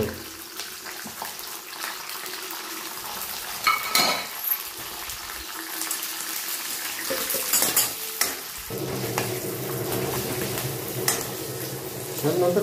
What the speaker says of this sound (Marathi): हे तापले त्यात आता शेंगदाणे टाकून घेऊ आपण.